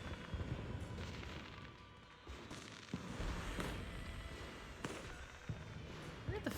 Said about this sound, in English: Where are the fireworks? They're so freaking loud.